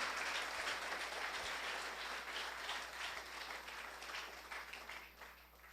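A church congregation applauds, a dense, continuous patter of many hands clapping at a distance that gradually thins toward the end.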